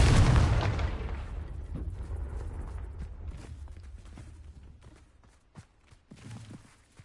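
A Confringo fire spell explodes in Hogwarts Legacy, a loud deep boom at the start that rumbles and fades, followed by scattered smaller impacts and a brief second burst near the end.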